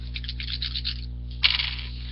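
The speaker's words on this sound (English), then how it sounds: "Take these dice and you roll them." Several plastic twenty-sided D20 dice roll and clatter across a hard surface for a game of Dungeons & Dragons fifth edition, first as a quick rattle and then as a sharper burst of tumbling clicks. No voices are heard.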